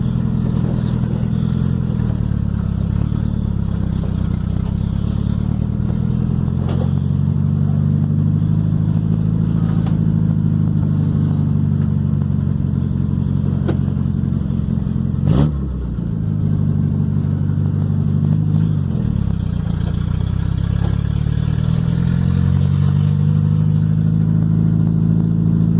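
A black Volkswagen Passat with a 4x1 exhaust header idles and revs repeatedly, its deep engine note rising and falling in slow waves, loud and close with a sharp crack midway and no speech.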